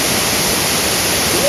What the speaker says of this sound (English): We visited 2 waterfalls, Empress Falls, and I think this is Cascade Falls.